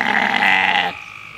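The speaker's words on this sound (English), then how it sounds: "bleat. They sound like they're burping." A sheep on a farm gives a single loud, close, throaty bleat with a burp-like quality that lasts almost a second and then stops abruptly.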